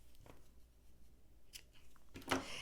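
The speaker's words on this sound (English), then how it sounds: "And I just cut off my end." Scissors snip off a yarn end during beaded crochet bookmark work, one short crisp cut near the end after quiet handling sounds.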